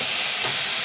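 Curry leaves and fresh coriander sizzle as they drop into hot tempering oil for a drumstick pod curry, a brief, steady and close hiss of frying.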